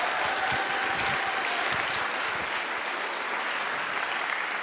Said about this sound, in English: we give one of the most inspirational people in the free software world a huge round of applause